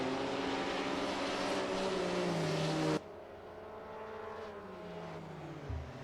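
Racing cars at the 1954 Silverstone Grand Prix, a loud engine note rising in pitch then cut off, followed by a fainter engine droning lower and sliding down as it slows into a corner.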